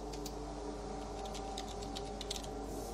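Fingers tap steadily on a computer keyboard while a character is set up in a Fallout game, with quick light clicks over a constant steady hum.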